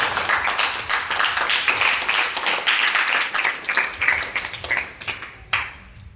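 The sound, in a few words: students clapping loudly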